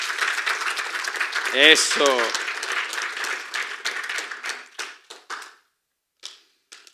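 A church congregation breaks into applause, a dense patter of clapping that swells and carries under a preacher's continuing speech, then thins into a few scattered bursts before fading out.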